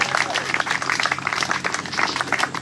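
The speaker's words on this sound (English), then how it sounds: "So can everyone give a round of applause for Assemblyman Fred Field?" Crowd at an outdoor historical marker dedication applauding an assemblyman, a dense, lively burst of clapping with voices and cheers mixed in, close and fairly loud throughout.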